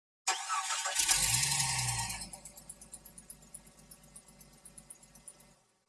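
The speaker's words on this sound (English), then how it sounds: "I'm going to put my battery in and then give it a crank" A Jeep Cherokee engine cranks, catches and briefly roars, then settles into a quick rhythmic idle that fades out, close and fairly quiet, with no talking.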